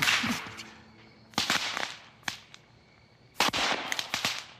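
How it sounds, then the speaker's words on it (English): Sodium dropped into a bucket of water sets off hydrogen gas explosions, several sharp, loud cracking bangs in irregular bursts with fizzing crackle between them. "What we're seeing is what happens when sodium's extra electron tears apart water molecules, releasing flammable hydrogen gas, the H in H2O, which explodes when it mixes with air."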